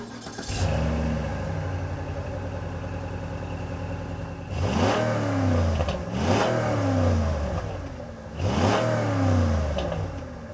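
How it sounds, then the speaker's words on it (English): A 2008 Cadillac DTS's Northstar V8 engine cranks and fires up, then settles into a rumbling idle before being revved three times, each rev rising and falling sharply. "let's start up the DTS so we can hear how the Northstar sounds."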